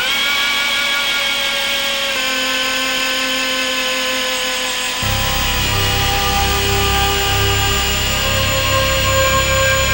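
A power drill grinds continuously through a log rafter, close and loud, its tone deepening and roughening midway as the bit bores deeper.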